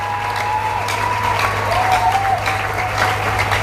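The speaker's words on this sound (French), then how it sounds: "Acclame très fort." Church seminar audience applauding, a dense, steady wash of clapping from a crowd that carries on without pause for a few seconds at a close, moderate loudness.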